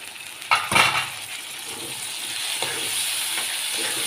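Tomatoes and green chili dropped into hot oil with garlic chutney in a pan, a clattering splash followed by a steady, close sizzle that keeps going, with no voices.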